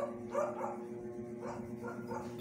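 A dog gives a few muffled, distant barks, spaced irregularly over a steady low hum.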